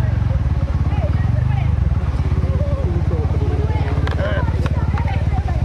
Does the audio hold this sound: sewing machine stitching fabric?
no